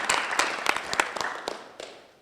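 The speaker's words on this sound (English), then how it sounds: "Let's give him a round of applause, too." Audience applause at a veteran commendation ceremony, a short burst of clapping with sharp individual claps that swells and then tapers off over about two seconds.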